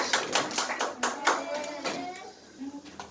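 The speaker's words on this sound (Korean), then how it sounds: "박수로 환영하겠습니다" A small church congregation claps steadily, brief warm applause welcoming visitors, with voices talking over it.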